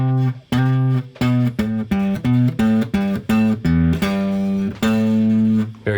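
Guitar picks out a slow main line on the 6th string from a song, a series of distinct low plucked notes with short gaps between them, close and clear, with no voices.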